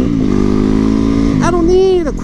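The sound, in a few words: motorcycle engine revving with exhaust pops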